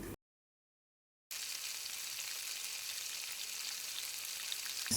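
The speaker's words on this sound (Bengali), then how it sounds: "পেঁয়াজটা হাই হিটে রেখে গোল্ডেন করে ভেজে নেব" Onions for a chicken kurma frying in oil over high heat, a steady close hiss and sizzle that begins after a second of silence and continues evenly with no talk.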